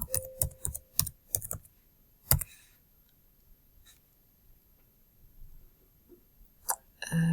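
Bursts of typing on a computer keyboard, clustered clicks for about two seconds, a single sharp stroke, then quiet with a few faint taps before more keystrokes at the end; close and clear with no talking.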